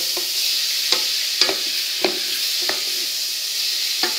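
Mushrooms and bacon lardons fry in a pan while onions are cooked for stuffing, giving a steady close sizzle with several soft stirring scrapes at regular intervals and no talking.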